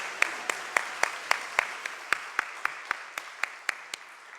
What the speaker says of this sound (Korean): 우리 귀한 특송해 주신 우리 류기준 청년에게 다시 한번 감사의 박수 보내도록 하겠습니다